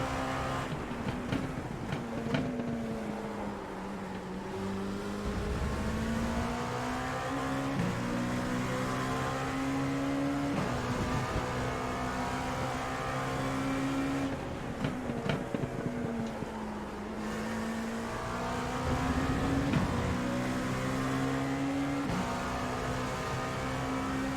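Sustained, steady drone of an LMP2 prototype race car engine in the iRacing simulator at Road America, with harmonic pitch rising and dipping through gear changes and throttle shifts, loud and continuous with no talk.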